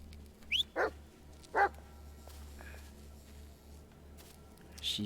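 Dog barking in the Blair Witch video game, a few short yips and whimpers spaced apart over a steady low hum, with faint talk in the background.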